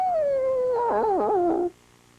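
A dog howls once, a long wavering tonal cry that bends up and down before cutting off abruptly, loud and close with quiet room tone after.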